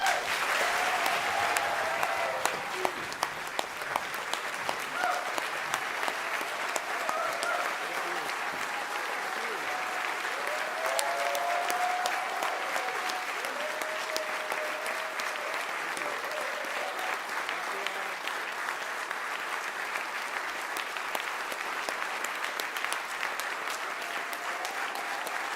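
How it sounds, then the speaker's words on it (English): Memorial service congregation giving sustained applause for a long stretch, a steady wash of clapping with voices murmuring and calling out faintly beneath it. "please join Elijah, Matt, and I in offering my father a round of applause"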